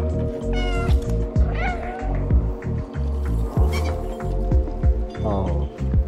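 A cat in the video game Stray meows repeatedly, several loud close meows and yowls over a steady throbbing low hum of game ambience.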